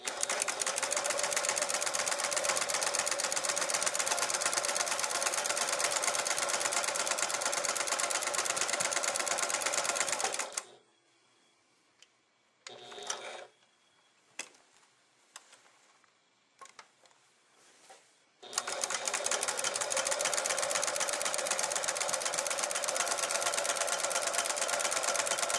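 A Swiss Elna 7100 sewing machine runs in two long, loud, steady stitching bursts nearby, separated by a quiet pause with faint clicks and handling sounds.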